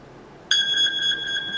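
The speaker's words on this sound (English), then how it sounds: "that's my alarm" An alarm starts abruptly and keeps up a steady, piercing electronic beep tone, fairly loud and close, with no voices over it.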